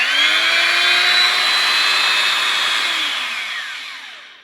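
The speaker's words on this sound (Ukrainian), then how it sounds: "Як ви чуєте, вона працює краще, ніж працюють теперішні е, кутові шліфмашини." A vintage Bosch 1337 angle grinder's motor whines steadily at high pitch, loud and close, then slowly winds down as it is switched off.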